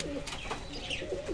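Pigeons in a loft give low, rolling coos, a couple of distinct throaty calls close by with quiet rustle between them.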